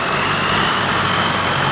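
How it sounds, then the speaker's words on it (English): A loud long-tail boat engine roars steadily nearby in Bangkok, a continuous droning clatter filling the scene without pause. "then there's the odd long tail coming through, of course making a racket."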